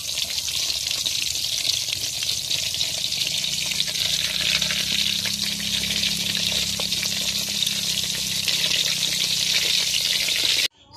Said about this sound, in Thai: เราก็จะใส่ลงไปในน้ำมันที่เดือดๆนะคะค่อยใส่ลงไปค่ะ